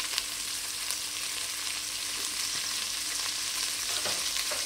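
Chicken meat and onion fry in a pan with a steady, bright sizzle and faint occasional stirring, close and continuous without any talk.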